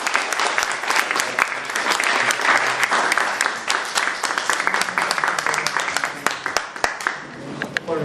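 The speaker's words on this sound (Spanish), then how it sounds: "lo recibimos con este fuerte aplauso." A crowd applauds to welcome a lecturer onto the stage, strong continuous clapping that stays full and even for about eight seconds, with a few sharp individual claps standing out near the end.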